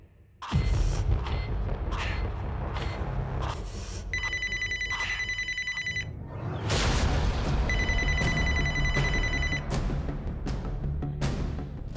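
A telephone bell rings in two repeated bursts, over a dense, loud backdrop of dramatic music and rumbling effects.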